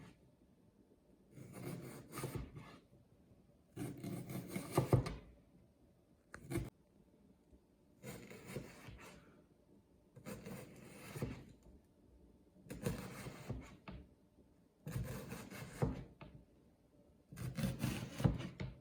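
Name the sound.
knife cutting an onion into thin strips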